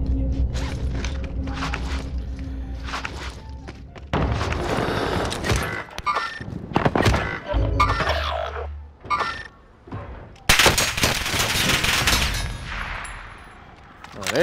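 Bursts of video-game gunfire crackle in a tense multiplayer shootout, loud sharp volleys coming in several clusters with mechanical clatter and brief quiet gaps between them.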